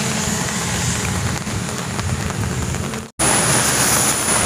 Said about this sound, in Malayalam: മഴ നല്ല ജോറായിട്ട് പെയ്യുന്നുണ്ട്.